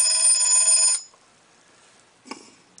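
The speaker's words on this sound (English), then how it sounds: "Nice loud alarm." A 1945 General Electric Troubadour electric alarm clock rings with a loud, bright metallic bell for about a second, then stops, followed by a faint click or knock.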